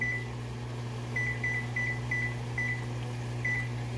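A kitchen oven beeps a handful of short, evenly spaced electronic tones while being set to preheat to 325, over a steady low appliance hum.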